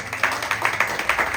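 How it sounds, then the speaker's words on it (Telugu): Steady rhythmic hand clapping from a congregation at a Christian worship service, even beats about every fifth of a second, brief and moderately loud. "చప్పట్లు కొట్టి"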